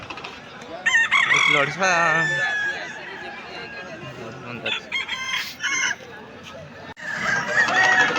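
Chickens and roosters at a rural weekly market, with several loud crowing calls and clucking close by, interspersed with people talking in the background.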